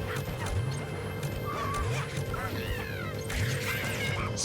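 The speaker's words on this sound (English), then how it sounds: "Toad makes such a little pitiful sound. He almost sounds like he's drowning." Toad's pitiful cry in Luigi's Mansion 2 HD on Switch: small warbling, gurgly wails repeated a few times over constant game background noise and a crash.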